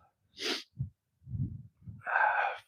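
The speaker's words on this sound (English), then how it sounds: "gonna go blow my nose real quick." A few sharp nasal blows and snorts, separated by short pauses, ending in a longer, forceful honk close by.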